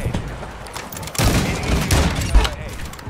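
A sniper rifle gunshot in the video game Call of Duty MW2, a loud burst of fire with a sharp crack near the end, heard under excited talking.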